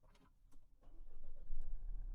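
A Mitsubishi Triton pickup truck's engine cranks briefly after a few clicks from a push-button start, then catches and settles into a steady low idle, heard close up.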